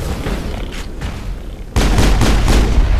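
Gunfire in the video game Mass Effect: a quieter, rumbling stretch gives way abruptly to a loud, dense run of rapid shots and booms that continues steadily to the end, with no talking.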